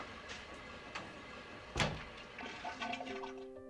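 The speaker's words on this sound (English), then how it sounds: "the sight and sound of a flushing toilet in Alfred Hitchcock's horror benchmark" A toilet flushes in Alfred Hitchcock's horror film Psycho: a faint, sudden gush of rushing water followed by a trickling refill, with no talk over it.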